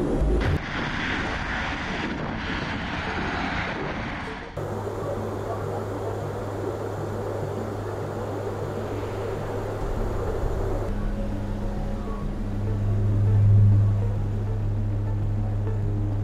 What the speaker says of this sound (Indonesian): saat ini saya sudah berada di dalam pesawat Super Hercules milik TNI Angkatan Udara